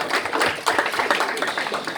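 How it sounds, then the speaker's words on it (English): Audience applause fills the room, a dense steady patter of many hands clapping close by with no speech over it. "So can you give them a round of applause?"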